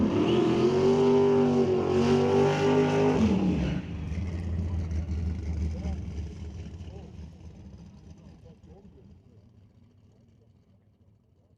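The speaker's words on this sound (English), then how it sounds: "That's going to bring John Cugliato around the corner." A 2004 Ford Mustang race car at a demolition-style event comes around a corner with a loud, high-revving engine roar that drops sharply in pitch, then fades into a lower, receding rumble as it moves away.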